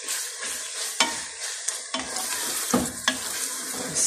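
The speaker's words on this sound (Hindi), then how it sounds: "कीमा मैं भून रही हूँ अच्छी तरह" Minced meat (keema) sizzles in a hot pan while a spoon stirs and scrapes it, producing a steady frying hiss broken by several sharp scraping strokes, close and fairly loud with no talk.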